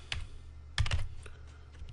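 Brief bursts of keystrokes on a computer keyboard, a few quick clicks then a denser flurry of taps, close and fairly quiet.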